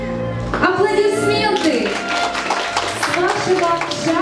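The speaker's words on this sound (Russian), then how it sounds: "Аплодисменты!" Guests applaud at a wedding ceremony as the couple steps forward together. Steady clapping from a nearby group runs throughout, with music playing underneath and an officiant's voice heard over it.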